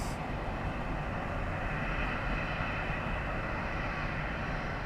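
A Copa Airlines Boeing 737-800 at Miami airport produces a steady, broadband jet engine rumble, moderately distant and continuous with no breaks.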